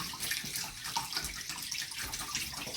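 Hot tap water runs steadily over a pineapple being rinsed in a sink, a full, continuous splashing rush heard close up with no voices.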